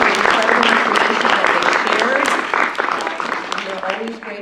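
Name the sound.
audience applause for panelists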